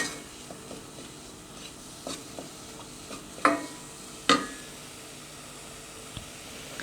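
A mixture for a Turkish chicken-breast milk pudding is stirred and roasted in a pot. A soft sizzle runs under scattered spoon scrapes and clinks, with a couple of sharper knocks against the metal.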